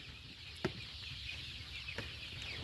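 Broiler chickens on a farm of about a hundred birds give soft, faint clucks against a quiet barn hum, with one brief louder cluck standing out near the start.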